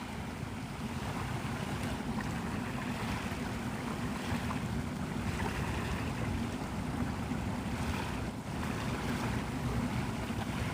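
A small rented boat motoring across Santa Rosa Sound near Navarre, Florida, steady engine rumble mixed with water wash and wind buffeting the microphone, continuous and even throughout.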